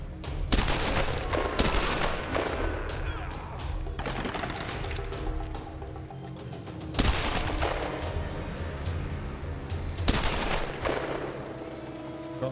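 Heavy gunfire in Tomb Raider (2013), loud bursts of shots at irregular intervals with sustained rattling fire between them, close and dominant, no talking.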